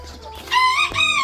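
Two-month-old bantam chicks give a short burst of high, bright clucking and peeping, close and fairly clear, two quick calls in just over a second with no talking over them.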